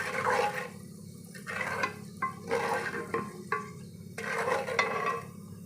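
Tempering spices fry in oil in a pan for bitter gourd onion masala, a soft sizzle broken by bursts of stirring and scraping that come and go in uneven waves, close by with no talking.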